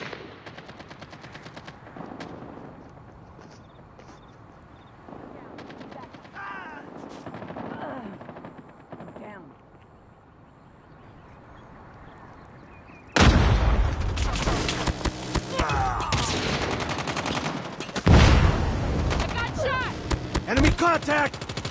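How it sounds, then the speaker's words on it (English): A sentry gun opens up in a multiplayer shooter, with rapid automatic bursts that turn loud and sustained about halfway through, laid over quieter game noise and chatter. "Sentry gun deployed."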